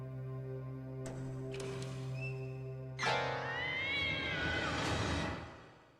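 A cat in a video game meows, a clear drawn-out call rising and falling over a steady electronic background hum, following a few short tonal blips.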